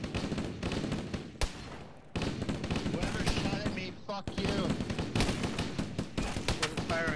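Dense automatic and single-shot gunfire from a first-person military shooter set in a library, with rapid bursts crackling loudly and almost continuously while players shout and talk over the firefight.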